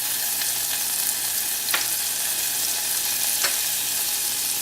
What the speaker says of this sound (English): I'm going to add my flour a little bit at a time. So just a little bit of flour like this.